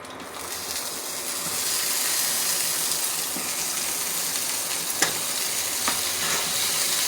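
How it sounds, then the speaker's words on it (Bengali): Eggplant slices coated in salt and turmeric fry in hot oil, giving a steady, dense sizzle throughout with a few sharper pops and crackles near the end. "আমি বেগুনগুলো কেটে পরিষ্কার করে লবণ আর হলুদ দিয়ে মাখায় রাখছি, এখন ভেজে দেব।"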